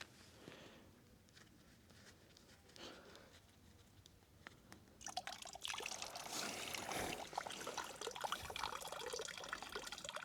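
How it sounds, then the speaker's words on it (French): Small pump switched on in a homemade water fountain, quiet rustling giving way to continuous close splashing and trickling water that stays steady to the end. "Hop, je branche la petite pompe."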